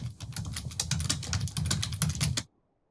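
Rapid clicking of keys on a computer keyboard, close and steady for a couple of seconds, then stopping abruptly into silence.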